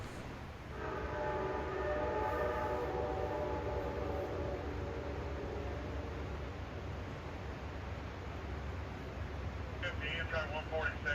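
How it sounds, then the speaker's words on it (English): An Amtrak passenger train rumbles steadily past eastbound on the New River line, its horn blaring in a long sustained chord early on, with continuous rolling noise and a brief squeal near the end. "Amtrak 50 rolling through town eastward"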